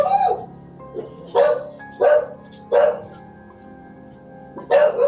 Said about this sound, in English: Anybody else hear those wild dogs?